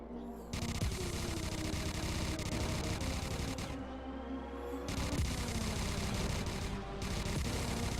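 Gunshots from the VR shooter CyberThreat come as continuous rapid automatic fire, loud and dense, breaking off briefly twice before resuming, with no talking over it.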